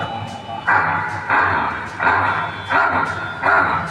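A voice imitates a crow, giving five harsh cawing calls in an even rhythm, loud and close.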